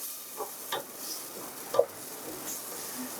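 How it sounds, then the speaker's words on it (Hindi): Spice masala roasting in a pan for masala bhindi, with soft scraping stirs and a faint sizzle, a few brief clinks of the spoon against the pan; quiet and close, no voices. "अच्छे से मिक्स करके इसको हमने खूब अच्छी तरह मसाले को भून लेना है।"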